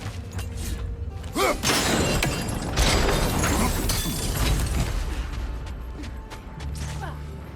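A crane mechanism in God of War Ragnarok grinds and ratchets with creaking gear clatter and a loud rumbling crash, running steadily for several seconds with a low hum at the end, amid game effects and some voice.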